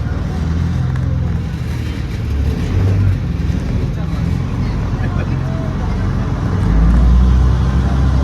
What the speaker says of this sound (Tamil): போட் ரிவர்ஸ் திருப்ப போறாங்க, திருப்பிட்டாங்க